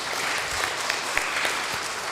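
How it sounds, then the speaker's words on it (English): Audience applause at an opioid presentation evening, a steady dense clatter of many hands with a few sharper claps standing out, moderately loud and continuous throughout. "So give yourselves a round of applause"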